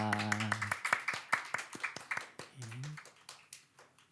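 A church congregation at a Sunday worship service claps in a burst of sharp, irregular hand claps that thin out and fade, with a voice speaking over the start.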